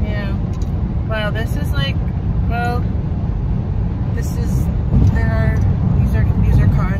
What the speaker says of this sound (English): these are cars on the road.